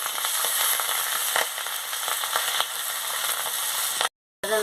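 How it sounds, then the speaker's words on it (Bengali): A fish head frying in hot oil sizzles loudly and steadily with crackling spatter throughout, cutting out abruptly near the end before resuming. "দিয়ে ভালো করে ভেজে নিচ্ছি।"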